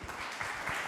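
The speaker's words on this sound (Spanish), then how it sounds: "Un fuerte aplauso para los dos" A brief burst of dense audience clapping at a book presentation in Spanish, steady and fairly loud across under a second.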